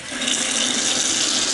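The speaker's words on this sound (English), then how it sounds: "You see it's just the hot water." Hot water runs from a sink tap in a steady, loud, close rush of broadband hiss, with no talk over it.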